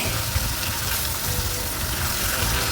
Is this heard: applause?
no